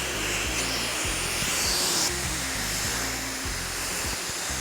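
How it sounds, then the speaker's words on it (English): A handheld blow dryer roars steadily at close range while styling hair into a bouncy blow-dry, its broadband whoosh shifting slightly as it moves, with a brief brighter surge partway through and no talking. "Make sure that the blow dryer is behind your work and going with the hair."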